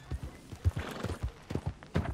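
Horse hooves clip-clop in Red Dead Redemption 2 as a mare walks up, a near, moderately loud run of uneven thuds landing roughly every quarter second with no talking over them.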